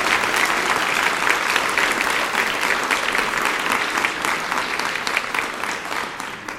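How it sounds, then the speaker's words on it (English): Sustained audience applause at a Rotary Club meeting honoring a $25,000 scholarship award, a dense, steady wash of many hands clapping from start to finish with no talk over it. "Round of applause."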